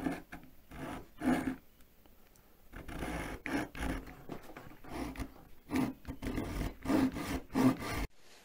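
A Parkside Japanese pull saw cuts wood in a workshop, delicate short strokes in irregular bursts with pauses between, close and fairly quiet.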